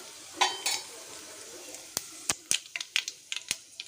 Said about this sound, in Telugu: నూనె కాగగానే మనము ఆవాలు జీలకర్ర వేసుకుందాము ఆవాలు జీలకర్ర రెండు మిక్స్ చేశానండి వేసాను